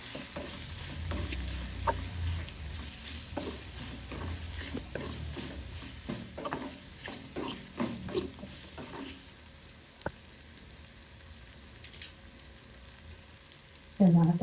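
Dried Bombay duck (bombil) sizzles in a hot pan while a spoon stirs and scrapes it, making crisp, uneven scraping bursts over a steady close fry that quietens toward the end.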